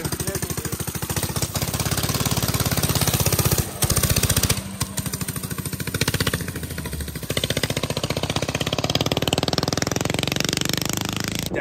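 A drift trike engine at full speed on a road speed test near Glamis, a loud, steady, rapidly pulsing mechanical drone that holds close and strong throughout, with a brief dip partway through.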